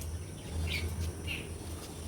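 A couple of brief bird chirps ring out against a low steady background hum, fairly faint and somewhat distant.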